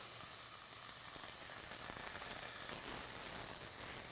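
Meat searing in a hot pan ahead of finishing in the oven, a steady, loud broadband sizzle that holds evenly throughout with no talking.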